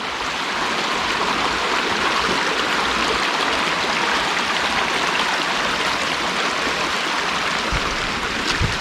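Steady, continuous rushing of water flowing in an ordinary ditch, close by and unbroken throughout, with no voices over it.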